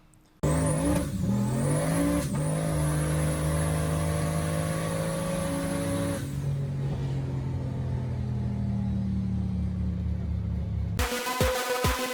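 A Camaro SS V8 with an MPP exhaust system roars as the engine revs and holds a deep rumble, loud and close, then settles into a lower idle before a final burst.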